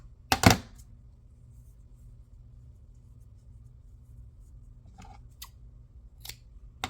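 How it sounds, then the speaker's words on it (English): Scissors cut cheesecloth from Sprouts: one crisp, close snip, then a few faint, scattered snips with quiet pauses between them, all without talk. "I'm just going to cut some of this cheesecloth"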